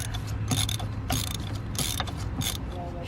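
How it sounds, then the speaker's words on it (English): A ratchet clicks in short bursts as spark plugs are loosened from a Mazda CX7 turbo engine, several quick ratcheting passes close up over a steady background hum. "start removing the spark plugs one by one"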